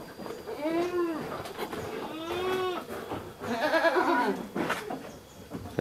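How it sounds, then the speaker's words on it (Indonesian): Goats on a farm bleat in three distinct wavering calls, fairly close and moderately loud, with soft rustling and ambient farm noise between them and no talking. "Ini kambing-kambingnya."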